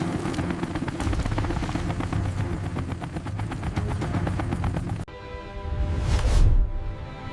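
An Apache helicopter flies overhead, a loud, steady chopping rotor pulse with a heavy low engine drone, then a sudden shift to a swelling rumbling whoosh that builds and fades.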